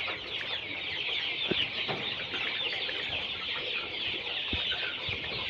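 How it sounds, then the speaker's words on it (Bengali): Colorbird chickens, grown to about 500 to 600 grams, clucking softly while they eat and drink, with a dense, steady murmur of a flock and a few faint knocks underneath. "মুরগিগুলো পানি ও খাবার খাচ্ছে"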